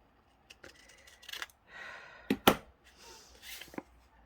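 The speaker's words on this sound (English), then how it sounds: "Why can't I cut straight?" Scissors snip paper for a junk journal page in several short, close cuts with uneven pauses between them, and faint murmuring can be heard between the snips.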